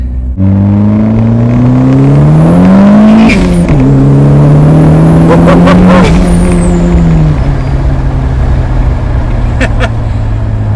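Family sedan fitted with a rally-car engine accelerating hard at full throttle in second gear, a loud sustained engine roar climbing steadily in pitch with a brief shift dip, close and continuous throughout.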